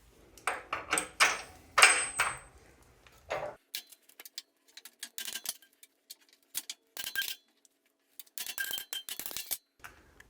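Small metal washers and nuts for a front leaf spring installation clink and tick against each other, a cluster of bright clinks at first, then scattered light taps and rattles close by.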